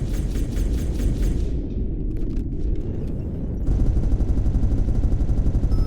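A spaceship weapon firing at a target in Spacebourne 2: a rapid, loud stream of evenly spaced blasts that stops briefly, followed by scattered impacts, then resumes at a faster rate over a heavy low rumble.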